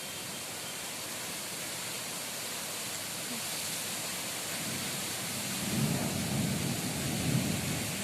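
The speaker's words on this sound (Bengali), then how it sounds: "দেখো বৃষ্টি কেমন শুরু হয়ে গেল দেখো প্রচুর বৃষ্টি হচ্ছে" Heavy rain pouring steadily outdoors, a dense continuous hiss with low rolling rumbles of thunder swelling toward the end, fairly faint and distant overall.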